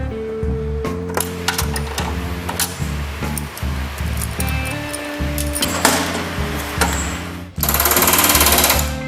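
Hand riveting on a custom bomber motorcycle seat: a pneumatic rivet hammer rattles in rapid close bursts with short pauses between them, ending in one sustained loud run.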